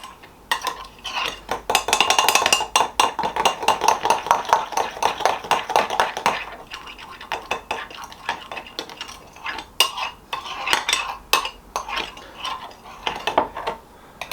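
Flour, salt and butter are mixed in a bowl for hot cross bun dough, with rapid rhythmic scraping and tapping. It is busy and close for the first half, then slower, more scattered strokes.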